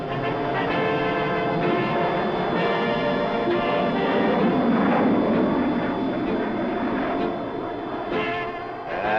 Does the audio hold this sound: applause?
no